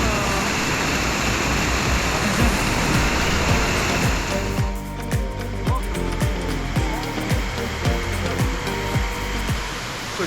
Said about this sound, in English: when you come to Aguinid Falls, usually it comes to like 8 levels, so there's a lot of different waterfalls here